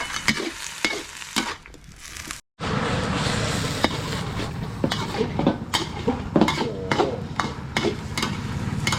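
Noodles are stir-fried with sauce in a pan as festive Chinese New Year food, with a continuous sizzle broken by clattering scrapes and knocks of a utensil against the pan and a momentary dropout.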